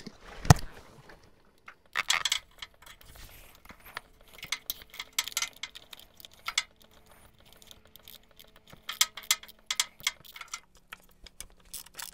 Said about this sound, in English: I'm using an 8mm ratchet.